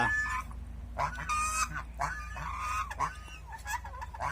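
Geese honk repeatedly in short, nasal calls over a low background hum, several birds calling back and forth at close range.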